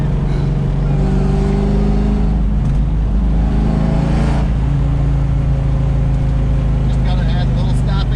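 A turbocharged Fox Body Ford Mustang revs hard while driving, loud continuous engine and turbo drone rising and falling from inside the car, with people talking over it.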